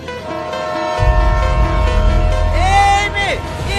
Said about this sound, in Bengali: এই মেয়ে, ট্রেন আসি, সরে যাও।